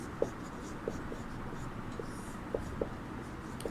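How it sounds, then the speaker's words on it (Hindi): Chalk or a marker taps and strokes on a classroom board in short, separate marks with brief pauses between them, moderately close against faint room noise. "यहाँ पर पॉइंट 1 लिखेंगे"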